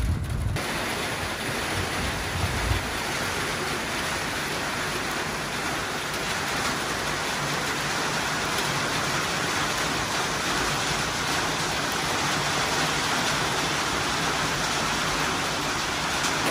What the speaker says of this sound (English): With lightning and rain thunder.